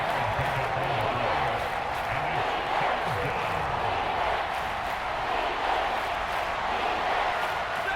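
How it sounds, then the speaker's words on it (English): Steady stadium crowd roar from a Madden NFL game, Los Angeles Rams versus Tampa Bay Buccaneers, holding at a constant loud level beneath a commentator's continuous play-by-play talk. "A big play here as the crowd noise rises"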